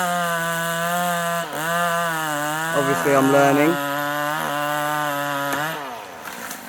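A chainsaw revs steadily nearby with a few pitch dips as it cuts through tree limbs, while someone speaks briefly over the engine noise.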